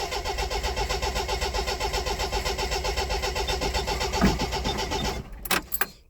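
An old Austin Princess car with a suspected fuel problem runs at a steady, slightly lumpy idle. Its throb is loud and close for about five seconds, then it cuts out, followed by a few clunks.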